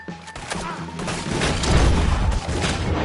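Heavy video game gunfire and booming blasts build into a dense, loud fusillade with thuds and crashes, close and chaotic, with voices faintly mixed in.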